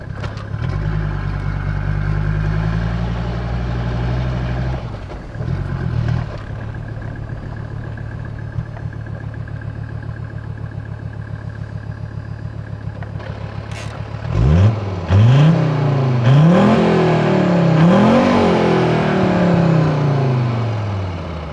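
A car with a Mercedes OM605 diesel engine idles with a loud, steady rumble and briefly dips. It then revs up repeatedly in rising, falling sweeps as it pulls away and drives, all close and with no talk.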